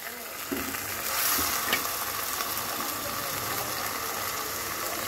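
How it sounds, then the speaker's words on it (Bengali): Water poured into a pan of sizzling country chicken curry, a steady bright frying hiss with a brief splash and gurgle early on, close and continuous, alone without talk. "এই আমি দিয়ে দিলাম ঝোলের জল।"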